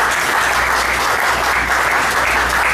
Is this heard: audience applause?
yes